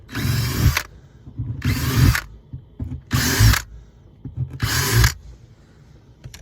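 Power drill boring holes in a van, four short whirring bursts at a steady rhythm with brief quiet gaps between them, close and fairly loud.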